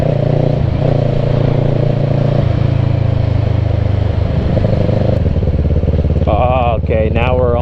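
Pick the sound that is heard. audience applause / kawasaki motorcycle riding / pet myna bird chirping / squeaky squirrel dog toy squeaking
kawasaki motorcycle riding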